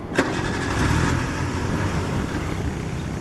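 A car engine cranks and catches, then settles into a steady rumbling idle nearby.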